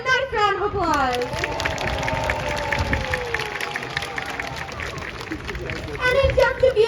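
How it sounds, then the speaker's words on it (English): An aquarium crowd claps for a sea lion at the end of a show, applause and cheering rising over lingering background chatter and an announcer's voice, fairly distant and steady. "let's give him a nice round of applause"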